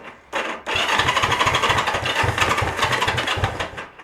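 A Honda CB360 motorcycle with a carburetor fuel problem cranks briefly, then catches and runs with loud, uneven, rapid chuffing firing pulses at close range.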